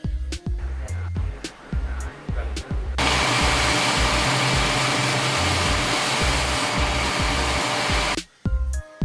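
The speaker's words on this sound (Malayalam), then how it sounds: "ഈ മെഷീൻ വേണമെങ്കിൽ നമുക്ക് ബ്ലോവറായും ഉപയോഗിക്കാം." A wet and dry vacuum cleaner runs as a blower, a loud steady rushing whoosh switched on after a few seconds of speech and clattering and lasting about five seconds before cutting off, with someone speaking before and after.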